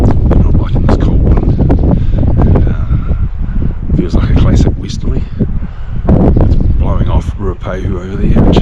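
A cold westerly wind blows through the forest in Kaweka Forest Park. It buffets the microphone in loud, uneven gusts and rumbles, while someone talks over it.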